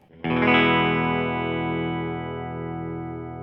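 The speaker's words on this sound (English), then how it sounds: "the guitar has this bite of a bridge Les Paul that's about to explode" An Epiphone 1956 Les Paul Goldtop on its bridge pickup through a valve amp rings out one strummed chord with bright bite, slowly decaying over a few seconds with no talking.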